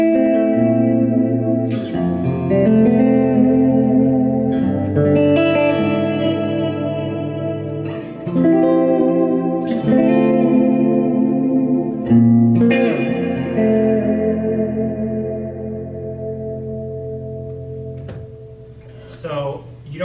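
Electric guitar played through a reverb effect, chords and single notes ringing out with a lush lingering tail, loud and continuous throughout, strums renewing every few seconds, with no voice over the playing.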